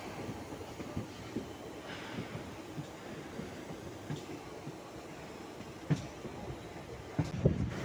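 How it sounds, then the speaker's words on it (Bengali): A Kolkata local train runs along the rails with faint, steady rumbling and occasional wheel clicks and knocks. The sound is heard from on board, with no talk. "Local train."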